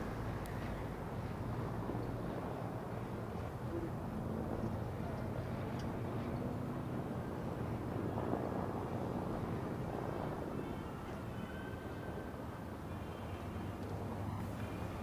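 A steady broadband roar with heavy wind rush runs the whole time and never stops, like a propeller plane heard from close by. The plane is landing while carrying wingwalker performers at an air show.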